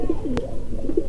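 A racing pigeon coos in short, low, throaty bursts, close and clear, with a brief sharp click partway through the second.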